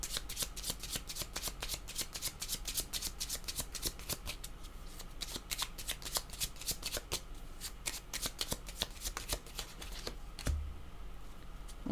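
A deck of tarot cards shuffled by hand, a long run of rapid close riffling flicks that stops near the end with a soft thud.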